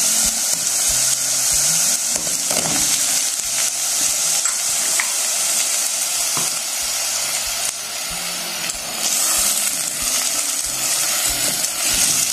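Ingredients frying in a tagine with garlic, stirred steadily throughout, a continuous close sizzle broken by small scraping and clinking knocks of the utensil, no voices.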